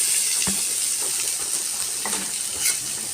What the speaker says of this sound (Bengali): এটা তেল গরম করে জিরে ও শুকনো লঙ্কা ফোড়ন দিলাম ডাল মাখানোটা ঢেলে দিলাম